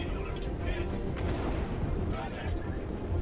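Missile explosions during a Star Citizen space dogfight rumble as deep, rolling booms layered over continuous low roaring, loud and sustained with no clear breaks.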